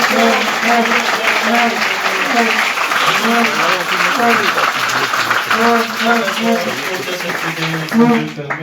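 Applause from a church meeting audience in Gamboma, a steady dense patter of clapping that runs throughout while voices sing or call out over it.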